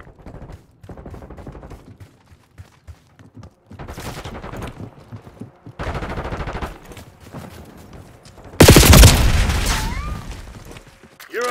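In Call of Duty Black Ops 6, several separate bursts of rapid machine-gun fire crackle at varying loudness. The last burst is close and intense, with short gaps between bursts.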